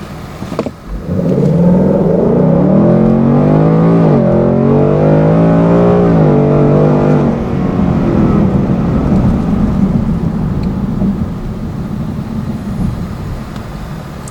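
A 2018 Mustang GT automatic launches flat out from 0 to 60, its engine roaring loud and close as revs climb, dip briefly at a gearshift, climb again, then settle into a sustained lower drone.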